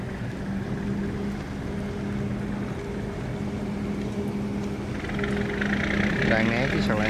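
Steady droning boat engine, heard from on board while maneuvering around a barge on a river, continuous and moderately loud with a rising note near the end, with a voice speaking over it.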